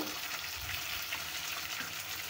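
Tomatoes go into a pan of whole cloves, cardamom and cinnamon frying in oil, giving a steady, close sizzling hiss that holds evenly throughout with no talk.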